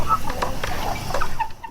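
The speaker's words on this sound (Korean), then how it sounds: "어느새 구잉이 키워온 병아리들은 사리부쩍 오른 달구로 잘 자라고 있었고" Chickens, young birds grown from chicks, cluck in a short burst of several soft calls over a steady background hum.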